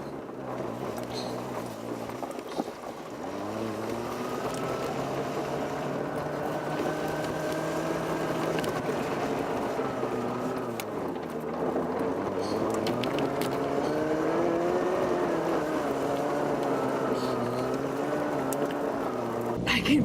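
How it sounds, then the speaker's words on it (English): A car climbs a soft, muddy, snowy driveway with its tires spinning. The engine drones steadily and rises and falls in pitch, with talk over it. "I can feel that mud spinning under my tire."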